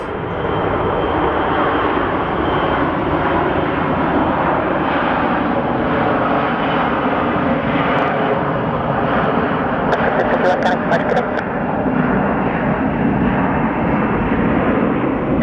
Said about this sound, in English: here we have a Delta A321, most likely going to Minneapolis